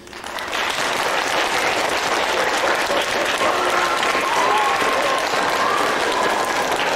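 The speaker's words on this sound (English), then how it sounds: "give a large round of applause for your teachers" A crowd gives its teachers a large round of applause at an Up Standers for Justice gathering, the clapping swelling quickly and holding as a thick, continuous roar throughout.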